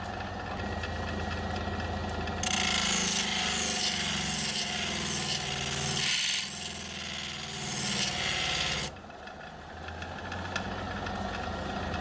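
A Nova sanding wheel machine runs steadily with a continuous motor hum, while a louder broadband rasp of grinding or sanding rises for about six seconds in the middle and then drops back to the plain running drone.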